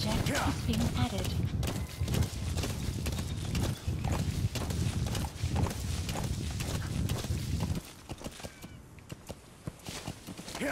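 Horse hooves clip-clopping in MGSV: The Phantom Pain, a steady run of hoof beats over game ambience and music that fades out near the end, close and distinct.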